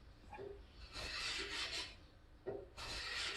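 Japanese hand plane blade being honed on a sharpening stone: a steady gritty scraping in long strokes, close and fairly loud, with brief pauses between passes.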